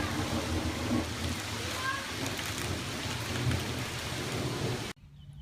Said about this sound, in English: this storm has a pretty good punch with it